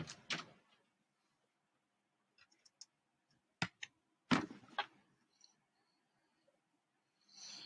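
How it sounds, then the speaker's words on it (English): Someone opens a house door to let a dog out: a few sharp clicks and latch knocks, with a louder clatter near the middle, set among long quiet gaps and soft rustling, with no talking. "I'm going to open my door."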